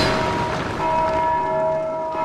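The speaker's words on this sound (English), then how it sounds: "I kicked a bell!" In a video game, a kicked bell rings out with sustained, ringing metallic tones that hang over a busy background of game ambience, steady and moderately loud.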